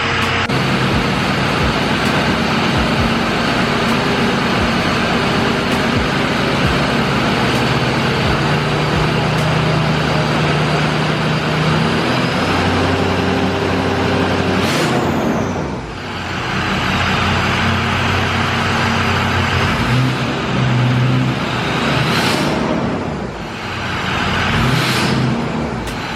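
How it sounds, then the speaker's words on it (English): Truck engine idling while it warms up, a steady rumble throughout with several sharp revs rising and falling near the end. "I'm gonna let the truck warm up."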